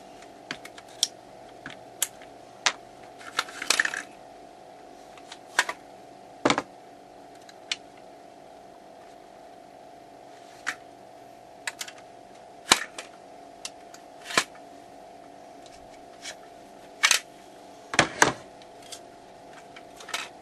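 Metallic clicks and taps from disassembling a Calico Liberty II firearm while removing a pin, scattered sharp transients over a quiet room background with no talking.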